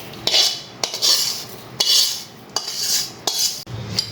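Roasted semolina and coconut mixture for barfi being scooped from a pan into a bowl, a run of sharp close metal spoon clinks and scrapes against cookware at irregular intervals, no voices.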